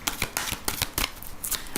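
Tarot cards are shuffled in brisk, close riffles, a quick run of papery bursts filling the short stretch alone.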